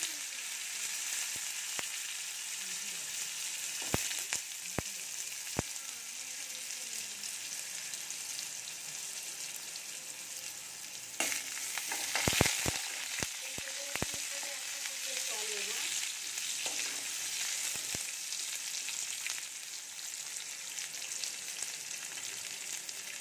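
Pieces of hog plum frying in hot oil with mustard seeds and a dried red chilli tempering, a steady close sizzle running throughout with occasional scrapes and clinks of a spatula stirring the pan.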